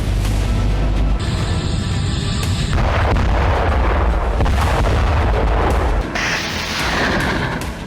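Russian MLRS rocket artillery strike in Donetsk: loud, continuous rumbling barrage of booms and bursts with sharp cracks, filling the whole span with dense low-end thunder and no speech.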